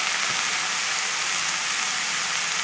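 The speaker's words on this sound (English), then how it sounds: "And we're going to add the water to this." Water poured into a hot pot of vegetable basil fish soup sizzles and hisses loudly, a dense, steady steam rush that holds without pause.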